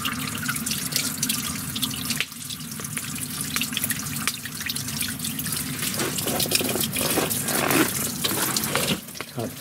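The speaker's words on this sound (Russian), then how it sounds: "Пошла водичка." Water runs from a tap in a crew cabin at a logging site, a steady hissing gush that continues throughout with slight shifts in tone and no speech.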